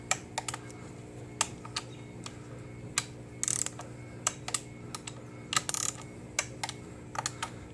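Torque wrench clicking repeatedly in short, sharp bursts as valve cover bolts are rechecked on a 2011-2016 Chevy Cruze 1.4L turbo, with a low steady hum underneath and no talk.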